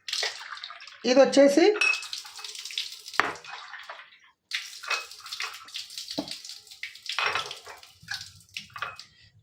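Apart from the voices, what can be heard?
water being filled into a container from a tap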